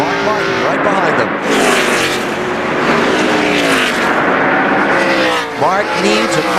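NASCAR race cars at the 2002 Checker Auto Parts 500, including Dave Blaney's Jasper engine 77 car battling John Andretti for fourth with Mark Martin close behind, roar steadily past under continuous commentary.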